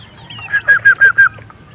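White Kelso roosters cluck on a farm range, giving a quick run of five sharp, clear calls close by, evenly spaced and alone against a quiet background.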